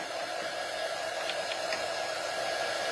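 A hair dryer blows steadily while drying hair, a constant close whooshing roar that holds level for the whole stretch, with no speech.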